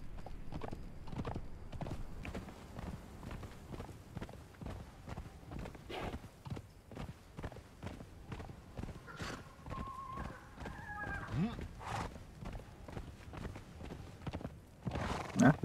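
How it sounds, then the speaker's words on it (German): Steady clip-clop of horse hooves at a brisk walking rhythm in the video game Conan Exiles, with a short whinny partway through and occasional faint game sounds. "gehen wir reiten. Easy, weil wir ein Pferd haben."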